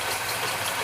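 A car engine idles steadily with a low, even rumble and slight vibration, running continuously and fairly close with no talk over it.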